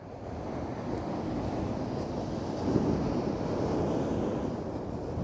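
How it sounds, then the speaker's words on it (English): Howling wind and a rough sea on the coast during torrential weather on a bass fishing trip. Heavy, constant roaring surf mixes with buffeting wind noise on the microphone, loud and unbroken, with no talking. "The wind is absolutely howling now"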